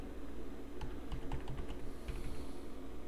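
Keys clack on a computer keyboard as a user password is typed into a Debian terminal, a quick burst of about a dozen close, crisp taps followed by a pause and a few more.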